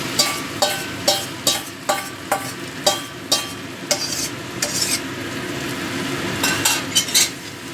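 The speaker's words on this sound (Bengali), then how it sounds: "এবার আমি এর মধ্যে ভাজা চিংড়ি মাছগুলো দিয়ে দেবো" Fried prawns stirred into softened tomato and onion in a pan for chingri do piyaza, with a steady rhythm of sharp spoon-against-pan scraping strokes over a low background sizzle, close and without talk.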